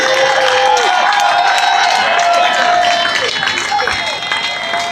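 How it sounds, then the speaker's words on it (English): A large outdoor rally crowd in Trafalgar Square, London, claps and cheers continuously, dense applause with whoops and voices, loud and sustained throughout. "Give her a round of applause, everyone."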